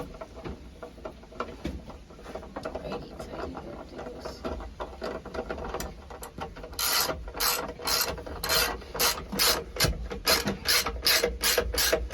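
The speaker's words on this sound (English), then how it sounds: "use our ratchet just to tighten this back up" A hand ratchet tightens a car battery terminal clamp. Soft, scattered clicks at first give way to loud, close bursts of rapid ratcheting clicks in a steady back-and-forth rhythm.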